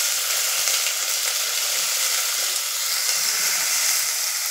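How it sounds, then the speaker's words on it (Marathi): Spring onion sizzling in hot oil in a pan, a loud, steady, hissing crackle that continues unbroken and close, with no talk. "आपलं तेल गरम झालंय, आता आपण त्यात टाकतोय उलपातीचा कांदा।"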